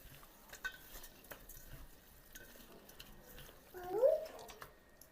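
Chicken is mixed with a spoonful of tikka masala for a barbecue chicken tikka, giving soft, scattered scrapes and clicks of a spoon in a bowl, with a louder, smeary stir near the end under faint room noise.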